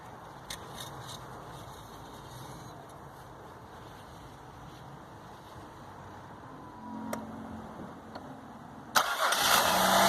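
A budget car being converted into an SUV camper, freshly welded and repaired, cranks and its engine starts at the end, running loud and close after a stretch of quiet background.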